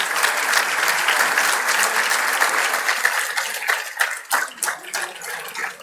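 An audience at a youth awakening event addressed by a state governor in India bursts into steady, dense applause, which holds for several seconds before thinning into scattered separate claps.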